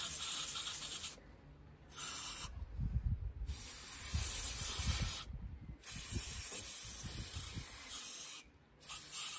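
Brake cleaner sprayed on a broken car part, bursts of loud hissing aerosol spray stopping and starting several times, with rustling handling noise in the gaps.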